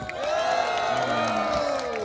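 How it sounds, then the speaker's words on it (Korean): An outdoor audience at a Haeundae Beach street performance cheers and shouts together in a loud, sustained roar that swells and holds for about two seconds with no speech over it. "함성 소리가 마음에 안 듭니다. 다시."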